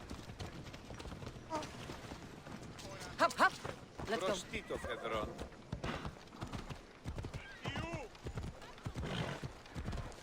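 A horse in Assassin's Creed Odyssey, with rapid hoof clip-clops and a whinny amid game effects, while someone talks over it.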